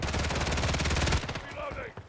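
Rapid machine-gun fire in Call of Duty Modern Warfare 3 rattles in a loud, fast burst lasting over a second, followed by brief scattered shots and faint game sounds.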